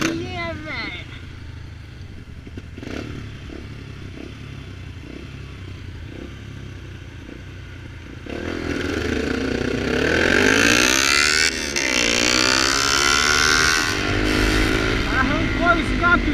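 A Kawasaki Ninja motorcycle fitted with a bare sport exhaust pipe idles with a rough clatter, then revs hard and loud, the pitch climbing and falling through several throttle blips close by.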